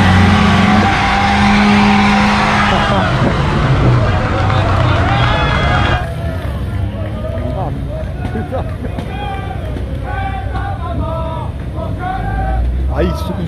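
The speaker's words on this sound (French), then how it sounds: "vous allez voir un burn en direct avec une super belle bagnole" A fine sports car does a burnout, giving a loud, close roar with tire squeal for about six seconds before it drops away, and people then talk over the fading noise.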